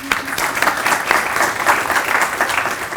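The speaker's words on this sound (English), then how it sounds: "Let's give a big round of applause to Dr. Stefan again, please." A university audience at a book launch claps in a full, sustained round of applause, loud and even throughout with no voices over it.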